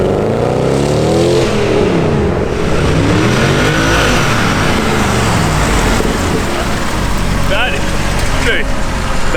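A V8 car accelerating hard in pulls heard from outside, engine note rising and sweeping in pitch as it revs, loud and close, with a brief voice near the end.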